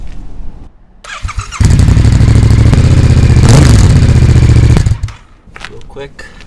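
A Yamaha MT-07 fitted with a ZARD exhaust fires up close by and holds a loud, throaty idle for a few seconds before shutting off, with brief clatter around it.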